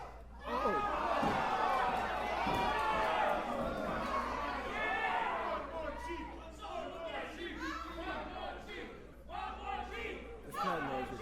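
Wrestling match crowd cheering and shouting through a submission hold, a loud, roaring mass of voices that swells early and keeps chattering, with commentary voices over it.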